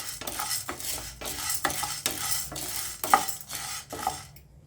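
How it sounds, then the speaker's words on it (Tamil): Chana dal dry roasting in a hot pan without oil, stirred with a utensil in repeated scraping strokes about twice a second, dry rattling grains close and clear with no voices. "பேன் காஞ்சதுமே நம்ம எடுத்து வச்சுருந்த கடலைப்பருப்பு எல்லாத்தையுமே தனித்தனியாக வறுத்துக்கோங்க"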